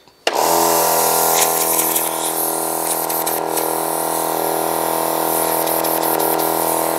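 Compressed air bursts on and then hisses in a loud, steady blast from the hose of a homemade onboard air system, holding almost constant for several seconds.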